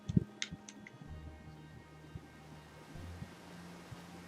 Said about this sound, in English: Oh, he's behind the waterfall, isn't he?